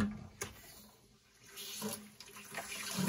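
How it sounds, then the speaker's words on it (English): Water draining out of a house's plumbing lines from the lowest point, heard as a gurgling, splashing trickle with short surges, close and moderately loud. "Just waiting on the last little bit of water to drain out of the lines here."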